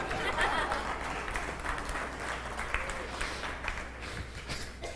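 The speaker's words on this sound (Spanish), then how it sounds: "deme un aplauso" Church congregation applauding during a Spanish-language sermon, a moderate wash of clapping mixed with some murmuring and chatter, fairly steady for several seconds.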